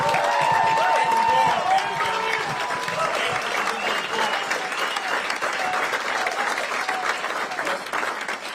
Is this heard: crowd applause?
yes